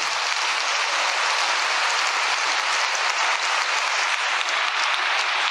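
A large gathering claps in thanks at a religious ceremony, dense steady applause filling the hall evenly from start to finish with no voices rising above it.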